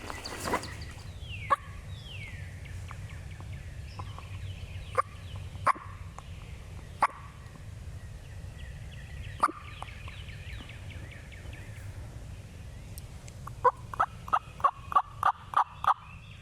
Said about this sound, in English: I just hooted once and they gobbled